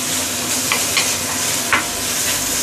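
Shiitake mushrooms stir-frying in hot oil over high heat for a homemade fish maw soup: a steady, close sizzle runs throughout, with a few brief scraping strokes of the stirring utensil.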